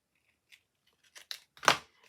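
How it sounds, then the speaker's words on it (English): Scissors snip off a paper tab from a handmade cracker gift box, a few short quiet snips building to one louder, crisp cut, heard alone and up close. "this tab here needs to be cut off"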